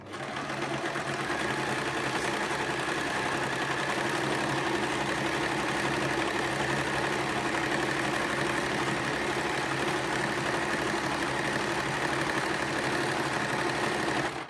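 A sewing machine stitches steadily along the edge of a wrap skirt, a continuous even mechanical whirr that runs close and loud without pause.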